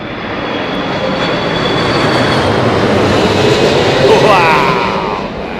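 A Turkish airliner comes in to land at London Heathrow Airport in a slight crosswind, its loud roaring engine swelling and holding steady as it passes close overhead.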